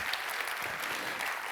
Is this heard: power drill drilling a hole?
no